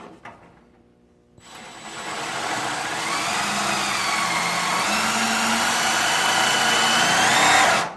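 A power drill whines close by as it bores into metal on a truck, starting after about a second of near quiet and then running as a steady, loud, slightly wavering whir until it stops abruptly.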